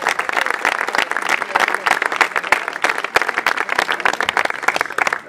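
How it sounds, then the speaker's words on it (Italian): Crowd applause at a memorial five-a-side football tournament, loud and close, with dense, steady clapping from many hands that continues unbroken throughout. "Applauso più forte"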